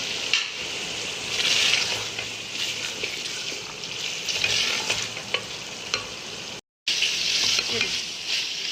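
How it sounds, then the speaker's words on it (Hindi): Mutton keema with potatoes sizzles steadily in a pan while being stirred and roasted, a continuous close frying hiss with scraping strokes and a brief dropout near the end. "अब मैं इसकी बुनाई कर रही हूँ"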